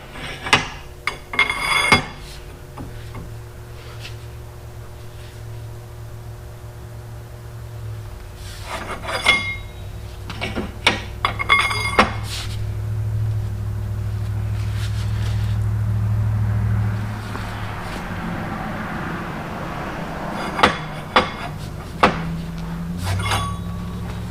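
A wheel stud is pressed into a hub held in a vise, cranked with a cheater bar: sharp metallic clinks and clanks come in bursts, with a sustained low grinding strain in the middle, close and loud.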